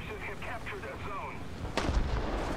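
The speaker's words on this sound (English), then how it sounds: "I can hear shooting off to my left." Distant War Thunder gunfire crackles under game ambience, with a louder burst of shots near the end.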